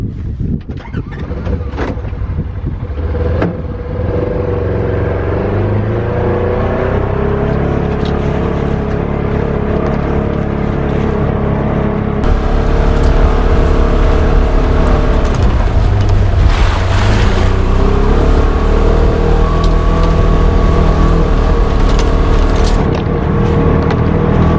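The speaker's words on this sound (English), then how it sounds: "I'm sitting inside my Polaris Ranger and we're gonna start it up. We're gonna take a little drive, hit some bumps" A Polaris Ranger utility vehicle starts up and drives over bumpy ground, its engine droning loudly and steadily close by, with wind buffeting the microphone and no talking.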